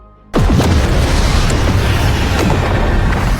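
A sudden loud boom erupts, followed by sustained rumbling blasts and whooshing debris, dense and overwhelming like a cinematic battle barrage.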